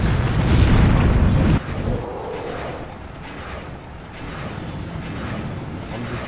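Loud booming blasts of bombs exploding in the video game Project Nomads, a heavy burst at the start followed by rumbling, crackling detonations and noisy action continuing throughout.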